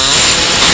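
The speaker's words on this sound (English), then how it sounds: "We're gonna go ahead and open it up a little bit by using our air saw right here" An air saw cuts a small notch for a trailer hitch bolt on a 2000 Chrysler Town and Country, giving a loud, steady, buzzing rasp that runs unbroken for under a second.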